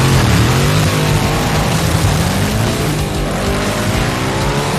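A Viper with a Hellcat drivetrain drag races a Pursuit Ute at a Roadkill Nights event: loud, continuous engine roar with climbing revs and a rising engine note, close and dominant throughout.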